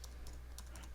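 Brief, faint typing on a computer keyboard, a few quick key clicks in an irregular burst, heard alone without speech.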